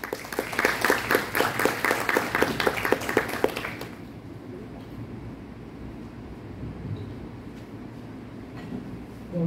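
An audience at an adoption-practices conference claps for about four seconds, fairly near and brisk, then the applause stops abruptly and only quiet room noise remains.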